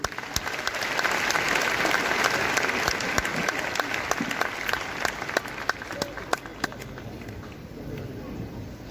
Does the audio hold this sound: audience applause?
yes